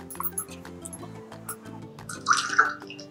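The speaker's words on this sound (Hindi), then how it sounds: "हम सबसे पहले पानी डाल रहे हैं" Water is poured into a container at the start of a colour-change chemistry experiment: a short splashing pour and a few drips over steady background music, with the pour loudest near the end.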